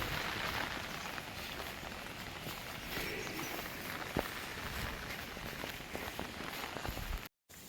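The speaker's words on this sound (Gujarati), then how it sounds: "વરસાદ પણ ઝીણો ઝીણો માથે પડે છે" Light drizzle falls outdoors on open grazing land in Gir, a quiet, even patter with faint scattered ticks of drops landing nearby. There is a brief dropout near the end and no speech.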